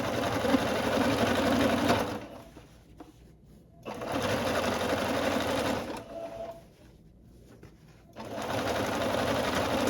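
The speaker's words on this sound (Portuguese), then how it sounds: "E a gente passa essa costura agora aqui também." A sewing machine stitches a skirt seam in loud, steady bursts of whirring, about two seconds each, separated by brief pauses with faint handling sounds.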